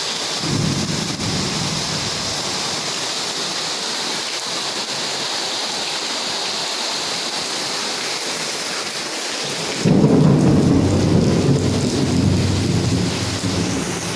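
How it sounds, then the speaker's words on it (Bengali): Heavy rain pours in a steady roar during a morning thunderstorm, swelling louder near the end as low thunder rumbles in, with no voices. "এই দেখেন কি জোরে বৃষ্টি।"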